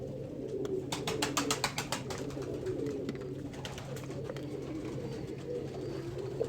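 Pigeons coo softly and repeatedly nearby, low rolling calls over a constant background hum, with a quick flurry of clicks early on.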